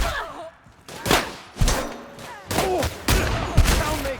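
Video game gunfire in The Outer Worlds, with several sharp shots and bursts coming in uneven clusters amid combat thuds and voiced grunts.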